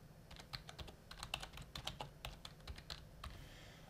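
Quick, uneven keystrokes on a computer keyboard, typed close by at a moderate level over a low steady hum, with no one talking.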